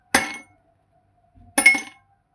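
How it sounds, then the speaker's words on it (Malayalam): Ice cubes land in a juice blender jar with two sharp glassy clinks, the second a slightly longer rattle, alone against a quiet background. "നമുക്ക് 2-3 ഐസ് ക്യൂബ് ഇട്ട് കൊടുക്കാം."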